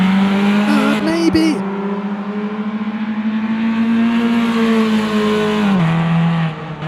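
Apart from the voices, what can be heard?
race car engines screaming at full throttle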